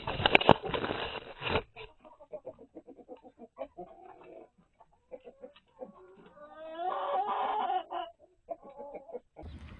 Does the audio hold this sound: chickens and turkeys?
yes